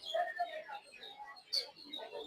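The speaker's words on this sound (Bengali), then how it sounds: "এখানে কিছু কবুতর আছে," Pigeons at the Mirpur 1 bird market in Dhaka, soft cooing and scattered chirps at low level amid faint market ambience, with no clear talk.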